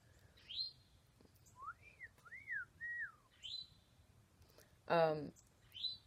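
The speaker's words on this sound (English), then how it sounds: "funny bird." A bird chirps and whistles in a series of short, clear rising and falling calls, with one sharp rapid trill near the end, close by and standing out over quiet background.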